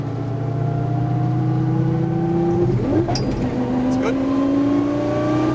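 A Lamborghini Gallardo LP 570-4 Superleggera accelerates smoothly on track, its engine note climbing in a steady rising drone, briefly dipping at a gear change, then rising again, loud and close from inside the car while a person speaks briefly.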